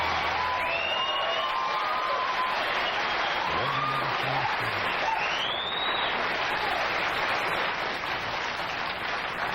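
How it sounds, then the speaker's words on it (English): A studio audience at a late-night television talk show claps and cheers loudly and continuously, a dense wash of applause with a few whoops rising above it. "This crowd is fired up."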